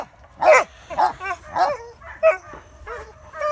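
Several farm dogs, including a Dogo Argentino, bark in a series of loud, close yips and woofs with short gaps between them, some sounding whiny, over faint background noise.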